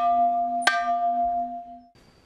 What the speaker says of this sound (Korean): 수업 시간을 알리는 종이 울렸다.